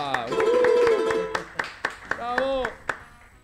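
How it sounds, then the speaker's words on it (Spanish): Audience applause for a carnival king at a lively carnival gathering with a charango player: sharp, scattered claps ring out over a loud voice and musical tones, fairly close and distinct. "El aplauso fuerte para el rey del carnaval"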